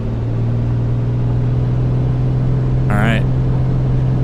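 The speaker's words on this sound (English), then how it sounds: "Now you should hear some engine." A Piper Comanche aircraft engine in Microsoft Flight Simulator runs at a steady, loud droning hum with a constant low tone, while someone briefly speaks over it.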